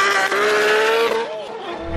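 Toyota 2JZ engine, naturally aspirated, driving in a Lexus GS300 of the second generation: a loud close-up revving note holding steady, then dropping and briefly rising again as the engine eases off.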